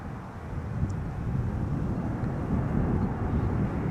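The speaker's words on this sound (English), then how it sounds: "Air Canada flight 900 up next, arriving from Montreal. Boeing 787-9 Dreamliner" An Air Canada Boeing 787-9 Dreamliner arriving at Amsterdam Schiphol from Montreal, heard as a steady, broad low roar of jet engines that swells gently and holds, with light wind noise.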